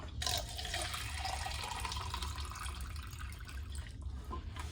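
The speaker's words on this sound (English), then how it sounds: "So let me grab my water pitcher, okay, to add filtered water." Filtered water pours from a plastic filter pitcher in a kitchen, a soft continuous trickle and splash at close range over a low background hum, with no talking.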